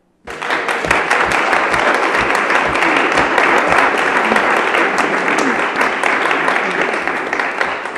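An audience applauds at a 2012 City of Racine budget meeting of the city council, a loud, dense burst of many hands that starts abruptly and holds steady for several seconds before easing slightly at the end.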